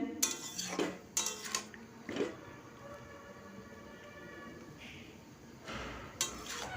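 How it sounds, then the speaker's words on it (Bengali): Vegetables and spices are stirred in a metal pan with a utensil, giving a few distinct scraping clinks and knocks spaced apart over a quiet kitchen background. "আবারও ভালো করে আমি মিশিয়ে নিচ্ছি"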